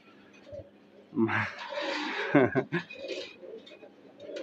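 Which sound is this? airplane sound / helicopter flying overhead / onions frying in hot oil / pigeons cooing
pigeons cooing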